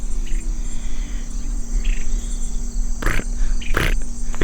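Crickets chirping outdoors: a steady high-pitched trill runs throughout over a low hum, with a couple of short louder bursts of rustling or handling noise close by.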